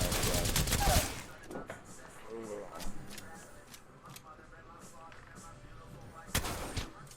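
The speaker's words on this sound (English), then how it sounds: "Shit, they're here shooting at me." Enemy gunfire in a shooter video game: rapid bursts of shots, loudest at the start and again near the end, with a player talking in between.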